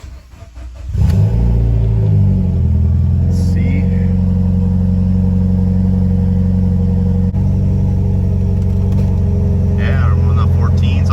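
A Mitsubishi Lancer Evolution X with a freshly installed AEM wideband gauge cranks and fires at about one second, then settles into a steady, loud close-up idle with a deep rumble, while people talk faintly over it.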